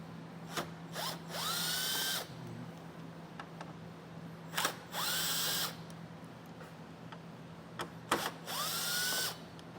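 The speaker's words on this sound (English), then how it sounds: "we have 6 T15 Torx bits to remove the top of off the radiator core" Cordless power tool driving out T15 Torx screws from the radiator core cover of a 2025 Chevrolet, in three separate whirring bursts of about a second and a half each, close and loud with brief ratcheting clicks between them.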